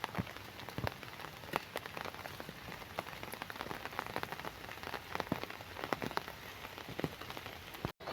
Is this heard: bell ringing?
no